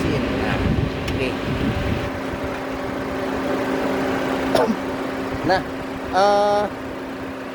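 A 2010 Mitsubishi Grandis 2.4 GLS automatic's 2400 cc four-cylinder engine runs at a steady idle, a constant low hum throughout, with someone speaking briefly over it and a few short tonal beeps near the end.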